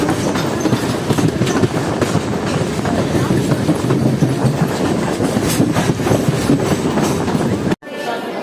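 A local train on the Sealdah–Lakshmikantapur line runs near Lakshmikantapur station with a loud, dense, steady rumble and rattling wheel clatter that cuts off abruptly near the end.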